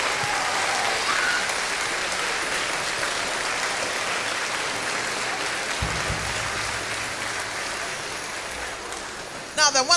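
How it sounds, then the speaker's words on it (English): Audience at a school carol concert applauds in a sustained, even wash of clapping that resembles rain, lasting the whole stretch before a few sharp knocks close it out. "So can we have a round of applause for them as well"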